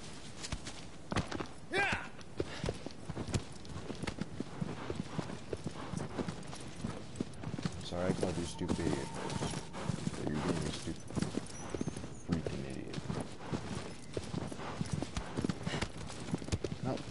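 A horse's hooves clip-clop steadily in a PS4 video game, a quick repetitive walking rhythm heard beneath a player talking.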